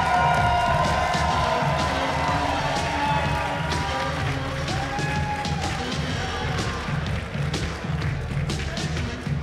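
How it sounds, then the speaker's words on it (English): A large crowd at the QuakeCon 2014 CTF esports showmatch cheers and applauds steadily throughout, loud and sustained, with scattered thumps and claps in the dense noise. "let's give these guys a big round of applause."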